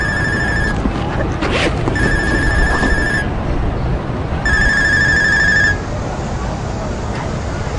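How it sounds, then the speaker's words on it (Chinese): A mobile phone rings in three repeated electronic bursts separated by short pauses, loud and close in an indoor scene with background noise. "你手机响了"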